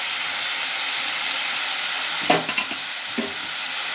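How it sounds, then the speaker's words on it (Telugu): A pan of bean curry with flat beans sizzles and hisses steadily in oil, then a spoon stirs it after salt goes in, giving a few brief scraping clatters near the end. "కొంచెం ఉప్పు వేసుకొని కలుపుకుందాం."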